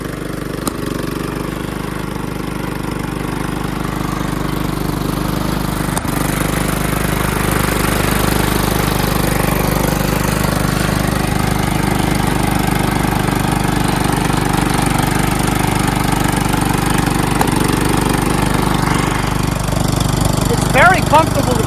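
A rebuilt Kohler Command engine runs on a John Deere LT160 lawn tractor, a steady loud mid-pitched drone that holds for the whole stretch, with an untuned carburetor and a few clanks near the end.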